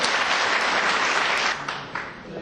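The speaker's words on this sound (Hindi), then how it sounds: "सुशील सरित साहब, जोरदार तालियों के साथ स्वागत करें आप।" A crowd at a Hindi Divas poetry gathering gives a poet dense, loud applause as he takes the stage, steady clapping that drops off slightly near the end.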